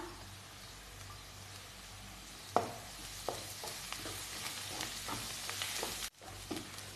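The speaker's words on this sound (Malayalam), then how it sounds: "അതും കൂടി ഇതിനകത്തോട്ട് ചേർത്ത് കൊടുത്തിട്ട് കുറച്ച് നേരം ഒന്ന് വഴറ്റിയെടുക്കണം" Chopped curry leaves and coriander sautéing in a pan for an egg kebab, with a quiet hiss and a run of scraping stir strokes from midway.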